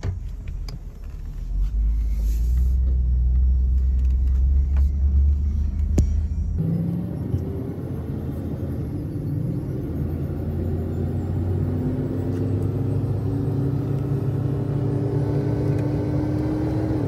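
A GMC Denali engine drones through a Carven TR muffler as a steady, deep exhaust rumble heard from inside the vehicle, shifting to a smoother cruising tone partway through, with no talking.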